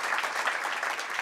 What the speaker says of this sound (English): Now that's worth a round of applause.